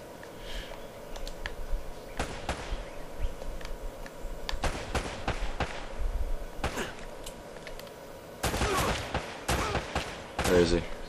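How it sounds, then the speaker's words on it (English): Repeated bursts of gunfire from the video game Uncharted: Drake's Fortune, with sharp clustered shots at irregular intervals, the loudest near the end, over a steady game background and some speech. "What the hell is shooting me?"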